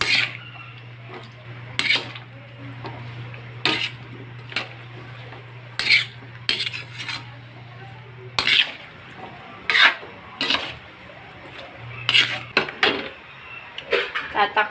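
Utensil scraping and clanking in a pan while chop suey is stirred, in irregular bursts of metallic clatter over a steady low hum, with occasional quiet voice in between.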